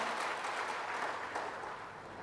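Audience clapping at a spiritual talk on peace, a dense, sustained wash of many hands applauding together, steady and fairly loud before fading slightly at the end.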